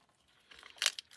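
A die-cut paper piece is pulled free from its sheet, a short soft crinkling tear that swells to a brief crisp peak near the end, close and quiet with no talk.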